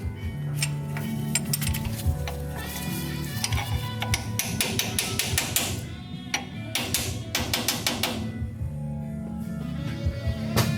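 A hammer taps the right-side cap of a differential into place during a diff install on a muscle truck, a busy run of sharp metallic clinks and knocks repeating throughout over a steady low background hum.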